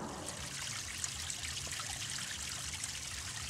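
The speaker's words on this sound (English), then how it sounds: "the little waterfall drops off here, the little waterfall above me." Small waterfall trickling and splashing over bedrock in a streambed, a steady close wash of falling water that runs continuously with no voices.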